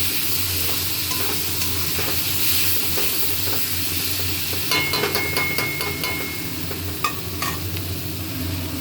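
Food being stirred and fried in oil in a home kitchen, with rice added to potatoes, gives a steady close sizzle and hiss under scraping stirs and a few sharp utensil clinks, with no talk.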